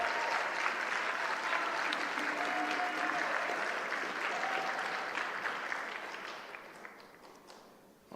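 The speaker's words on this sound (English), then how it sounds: "Give her a round of applause." A community-event audience in Long Beach claps steadily for a former vice mayor, a dense, even wash of applause that holds for several seconds before thinning and fading toward the end.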